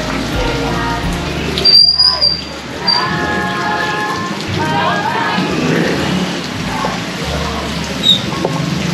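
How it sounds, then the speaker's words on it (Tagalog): Heavy rain pours steadily and loud throughout, a dense continuous wash close by, with faint voices murmuring underneath. "Lakas na ulan."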